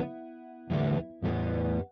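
Two sustained notes on a Flamma E1000 guitar with a shimmering chorus modulation, each ringing about half a second, played cleanly with no talking.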